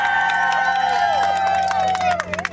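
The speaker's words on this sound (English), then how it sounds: "Give yourselves a round of applause!" Jungle Cruise riders clap and cheer at the end of the boat ride, a burst of crowd noise with tonal whistles and a boat sound over a low hum, clapping sharpening near the end.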